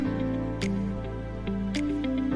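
Water splashes into chicken cooking in a pot for yakhni pulao, a burst of dripping, squishy liquid sounds over a constant sizzling hiss.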